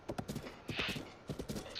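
Horse hooves clip-clop in Zelda Breath of the Wild, a quick run of close, rhythmic footfalls from a single horse.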